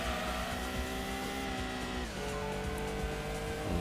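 Racing engine of a Mazda Protege in Gran Turismo 2, a loud, steady high revving drone that shifts pitch as gears change, with tire squeal through corners and no talk over it.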